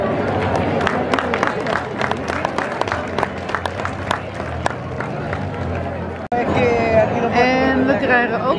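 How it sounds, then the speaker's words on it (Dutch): An audience gives a round of applause at a village event with a mayor and paella, a dense crowd of clapping and chatter that cuts out briefly and then returns with cheering voices. "Een applaus voor Maria La Torre."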